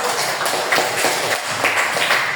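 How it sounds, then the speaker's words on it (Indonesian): Students in a classroom break into a short round of applause, brisk scattered clapping lasting a couple of seconds with no talk over it. "Tepuk tangan untuk Anda."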